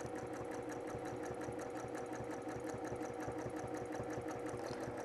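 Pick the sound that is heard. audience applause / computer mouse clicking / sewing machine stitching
sewing machine stitching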